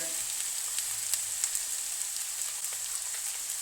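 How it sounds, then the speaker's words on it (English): Olive oil in a frying pan gives off a steady, faint hiss of sizzling with scattered small crackles throughout. "Add a little oil."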